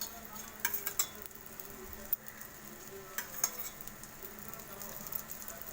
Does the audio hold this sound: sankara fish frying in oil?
yes